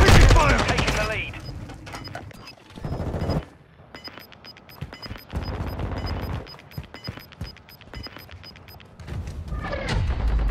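Gunfire in Modern Warfare II, an M4 rifle in a multiplayer match: loud rapid automatic bursts and sharp single shots with pauses between volleys, plus faint background tones.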